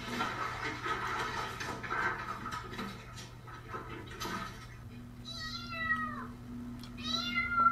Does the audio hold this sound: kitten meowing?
yes